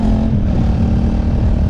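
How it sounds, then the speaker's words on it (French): Royal Enfield Interceptor 650 motorcycle engine revving gently while still cold, a steady loud low throb with small rises in engine speed, close by and with no talk. "Faire des petites montées en régime"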